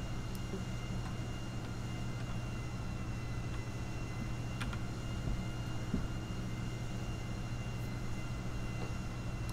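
An airplane powers up in GTA 5, giving a steady engine drone with a constant low hum and high whine that holds evenly throughout, with no talking over it.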